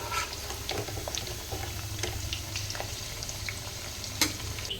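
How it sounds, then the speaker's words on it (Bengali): Carrots lightly frying in a pan give a soft, close bubbling sizzle with small crackles and a few utensil taps, fairly quiet and with no voices. "দেখো, এরকম হালকা হালকা ভেজে উঠিয়ে নেব।"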